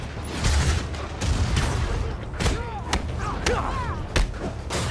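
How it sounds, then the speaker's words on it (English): Rockets explode in the Marvel's Spider-Man video game, with repeated loud booms and thumps against continuous action noise, plus whooshing projectile sounds and brief voice fragments. "More rockets? A little excessive, don't you think?"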